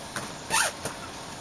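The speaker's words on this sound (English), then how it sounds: "Bruce, I'm opening the door." A door being opened during a door installation, giving a few faint creaks and a brief louder squeak in the middle, quiet and close.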